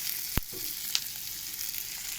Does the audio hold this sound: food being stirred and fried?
yes